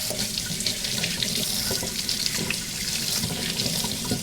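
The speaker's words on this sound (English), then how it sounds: "we're going to give them a quick rinse" Tap water runs steadily into a sink, rinsing the parts of a Jura coffee milk frother, a continuous close splashing wash with no talk.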